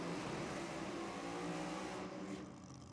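A Hemi-powered Holden drag racing car roars loud and close at a drag meet, engine holding a dense, steady howl that eases slightly near the end.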